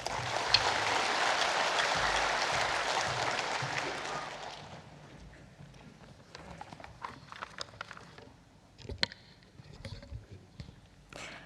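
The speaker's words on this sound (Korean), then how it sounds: "박수 한번 드리십시다." Church congregation applauding during a service, a dense steady clatter of clapping for about four seconds that then quickly fades into a quieter room with scattered small knocks.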